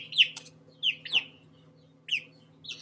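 Several short, bright clucks and chirps from chickens, the first close and loud, then others spaced irregularly over a steady low hum.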